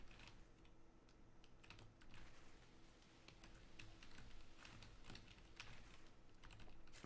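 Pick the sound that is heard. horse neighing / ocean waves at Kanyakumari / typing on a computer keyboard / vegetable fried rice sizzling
typing on a computer keyboard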